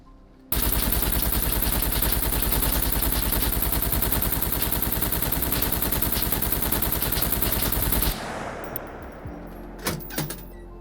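An AK rifle in the game SCUM fires at a cabinet in one loud, unbroken automatic burst lasting several seconds. It cuts off abruptly and leaves a few scattered clicks and clatters.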